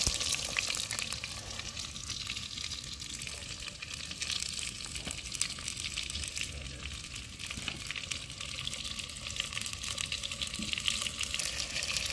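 Potatoes fry in hot oil in a pot for a village-style clay-pot chicken dish, giving a continuous dense sizzle and crackle with occasional stirring scrapes, close and steady throughout.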